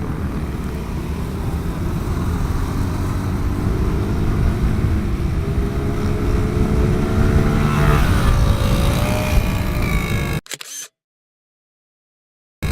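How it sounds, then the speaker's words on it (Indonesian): Motorcycle engine roaring steadily on a road in Indonesia, loud and continuous with rising engine pitch toward the end before cutting out abruptly. "gue tahu motor lu kenceng"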